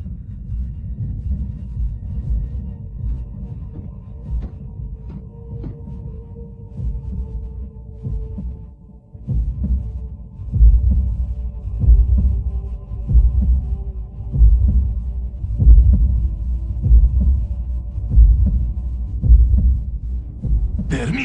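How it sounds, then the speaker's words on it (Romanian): A Cybertronian heartbeat sound effect from the Transformers Prime cartoon pulses as a deep, steady throbbing over a continuous low hum, loud and sustained with no voices. "O bătaie cybertroniană de inimă?"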